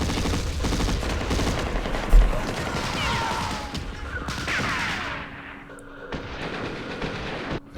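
Artillery fire in the Vietnam war game Campaign Series Vietnam, Dien Bien Phu scenario, rapid booming and crackling shots and blasts in a dense barrage, with a sharp impact early and whistling shells overhead.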